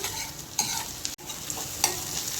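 Chopped onion frying and being stirred in a pan for a fenugreek (methi) curry with sesame and peanuts, a steady close sizzle broken by a few scraping stirs, with no voices.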